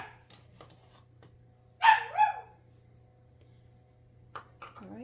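A puppy indoors gives a short burst of two or three high, excited barks at other dogs, with sparse clicks and a faint hum around it and a brief later yip.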